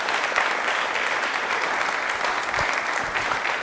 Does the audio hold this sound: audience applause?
yes